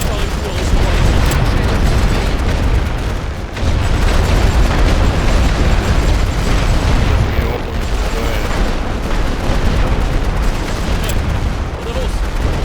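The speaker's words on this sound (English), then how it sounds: "Préparez-vous à recevoir les tirs de barrage." Artillery barrage explosions in the World War One video game The Great War, a dense roar of overlapping booms and blasts rolling on continuously, loud and close, with a brief dip in intensity.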